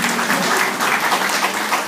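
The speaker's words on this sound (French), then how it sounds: "Pour les remercier. Pour les applaudir." A crowd applauds at an outdoor diaspora gathering in Massy, a loud, dense and steady patter of many hands that carries on unbroken with no talk over it.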